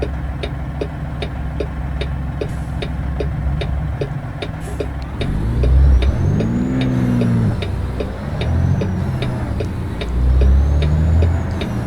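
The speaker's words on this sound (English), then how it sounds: "Man, it's easy to over-rev an 800 horsepower semi." An 800 horsepower semi truck engine in American Truck Simulator hums steadily, then rises in pitch as it revs hard. A rhythmic ticking runs throughout.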